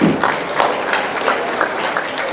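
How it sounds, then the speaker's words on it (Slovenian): An indoor audience applauds at a school year-end ceremony, a steady close clapping that fills the whole short stretch without pausing. "En aplavz."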